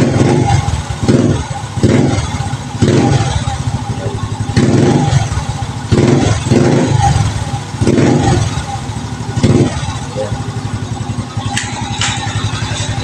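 A Suzuki Smash motorcycle engine runs loudly and up close after its ignition coil is replaced, chugging rhythmically with pulsing surges as the throttle is blipped, while a voice talks briefly.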